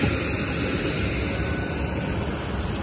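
Passenger airplane jet engine, a steady loud broadband roar that fills the whole span without change, heard close as if from inside the cabin in foggy weather.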